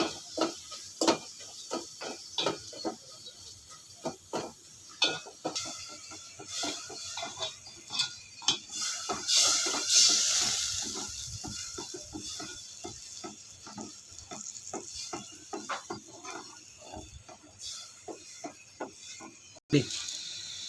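Spiced meat being stirred in a pan with turmeric and coriander powder, giving repeated scraping and clinking strokes over a light sizzle, fairly close and steady, with no talking.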